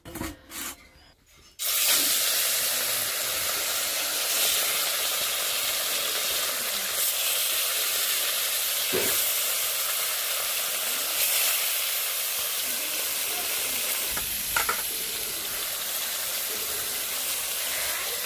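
Mustard flower pakoras frying in a little oil give a steady, loud sizzle and hiss that starts abruptly after a short quiet moment and runs on evenly, with occasional crackles and no talk.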